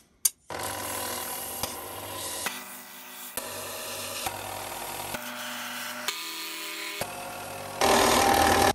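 A belt sander works on a part from a Record No 5 1/2 jack plane, a steady loud abrasive whir that keeps shifting tone in several passes, with brief knocks as the piece is repositioned.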